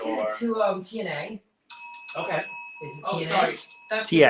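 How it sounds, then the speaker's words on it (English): A doorbell chimes with steady sustained tones in the middle of a live primetime drag brunch show, ringing under and between lively talk from several hosts. "That's the doorbell."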